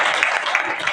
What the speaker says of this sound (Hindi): इनके सम्मान को ताली लेंगे।